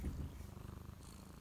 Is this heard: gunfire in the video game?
no